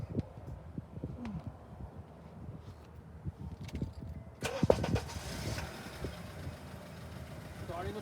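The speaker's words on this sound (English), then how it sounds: "I will start the car." A Honda car engine cranks and catches about halfway through with a sudden burst of broadband noise, then settles into a steady, fairly close idle after a quieter stretch of low rumbling and faint background activity.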